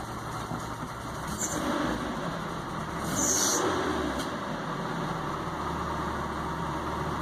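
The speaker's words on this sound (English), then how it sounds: "Still idling a little funny." A Nissan 240SX engine idles steadily with a low, uneven rumble and a faint high whine, running on without pause.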